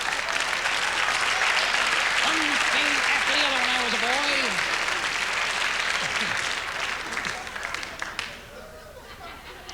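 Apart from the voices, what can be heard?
audience applause at comedy show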